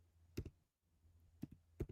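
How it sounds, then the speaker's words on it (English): Keyboard keys clack in three short bursts of quick clicks, close and moderately loud, separated by a quiet pause over low background hum. "mind the keyboard sounds here"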